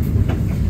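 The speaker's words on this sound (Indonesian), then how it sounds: "kereta api Ranggajati telah tiba di stasiun Cirebon sebagai tujuan akhir kereta api Ranggajati" Ranggajati passenger train arriving at Cirebon station, a steady low rumble of rolling railcars with a faint wheel-on-rail clatter, continuous and fairly close, no voices.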